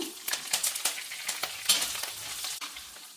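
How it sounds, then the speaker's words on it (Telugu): Gentle sizzling of food frying in oil on a low flame, with curry leaves and asafoetida, a soft steady crackle and occasional spatula scrapes and stirs. "సిమ్లో పెట్టుకొని ఫ్రై చేసుకుంటున్నాను"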